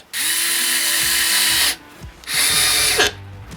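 SKIL cordless screwdriver with electronic clutch driving a 50 mm screw: two loud high-pitched motor whines, the first about 1.6 seconds and the second shorter and ending abruptly as the clutch cuts in, with a brief pause between them.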